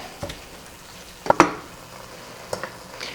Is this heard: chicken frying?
yes